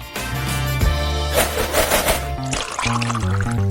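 Fresh orange juice pours into a glass in a steady, loud, close stream with liquid gurgles and a brief change in the flow partway through, alone without talk.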